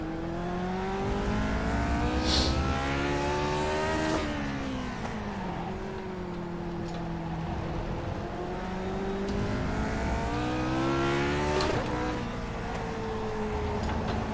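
A Lotus 49 race car roars through laps in the iRacing sim. Its engine revs climb and drop through repeated gear changes and corner exits, loud and continuous, with a brief tire squeal.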